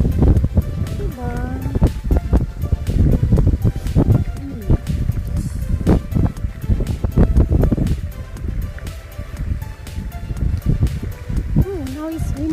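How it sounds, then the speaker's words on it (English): Wind gusts and buffets the microphone outdoors in snow, a loud continuous rumble with flutter, while people talk over it throughout. "Oh, now it's windy."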